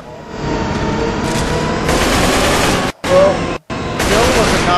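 Sustained rapid gunfire from firearms in the zombie shooter Left 4 Dead 2, loud and dense with bursts and brief gaps, continuing through the whole stretch under faint talk.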